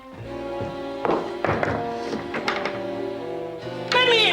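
Loud fist thumps banging on a locked wooden door in a period drama house, several heavy irregular blows in quick bursts, with a voice shouting over them.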